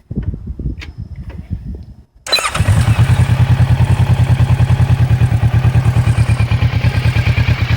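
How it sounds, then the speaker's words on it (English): A 2015 Kawasaki Versys LT motorcycle on its stock exhaust is started close by after some brief handling noises, then settles into a loud, steady, rhythmic idle that runs alone to the end. "I'll go ahead and start the bike."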